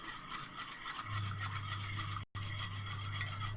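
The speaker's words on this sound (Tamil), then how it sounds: "இத நல்லா ஒரு 3 நிமிஷம் அடிச்சு எடுத்துக்கோங்க" Powdered sugar mixture for chocolate cupcakes being beaten by hand in a bowl, a steady close scraping and rubbing rhythm that runs without pause apart from one brief cut, with no talking.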